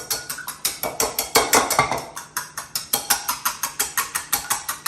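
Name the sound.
whisking eggs for an omelette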